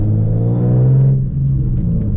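A manual Nissan 370Z accelerates with a loud, close engine rumble that holds a steady pitch, then drops off as if for a gear change before settling into a lower drone.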